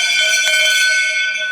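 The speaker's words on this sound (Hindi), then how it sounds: "ये घंटा है" A bronze temple bell at an old Shiva temple in Unnao rings once, loud and close, its bright metallic tone sustaining and reverberating evenly without any voices.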